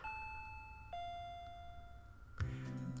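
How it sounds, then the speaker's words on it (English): A soft electronic two-tone doorbell chime from a visual novel game, Higurashi, rings, followed by a brighter jingle of tones, fairly quiet and clean. "heard the doorbell 10 minutes later."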